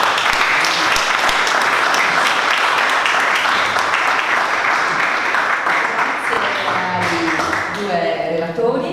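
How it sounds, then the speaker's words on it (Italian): An audience applauds the speakers at a book presentation with dense, sustained clapping from a room full of people, fading slightly as voices begin to emerge near the end. "un applauso per"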